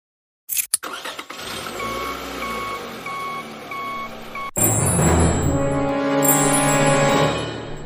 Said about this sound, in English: You go start the bus.